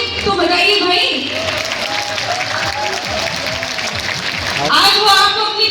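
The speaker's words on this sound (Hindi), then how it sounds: "एक अच्छी सी ताली तो बजाइए भाई" A large audience at a Hindi kavi sammelan poetry recital in Shravasti applauds steadily for several seconds, a dense, continuous roar of clapping that swells again toward the end.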